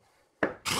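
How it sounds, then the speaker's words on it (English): Wood being hand-sanded with sandpaper to remove fluff after routing: a brief scratchy rub, then a louder, steady abrasive scrubbing close to the microphone. "So I'll just literally just sand it off."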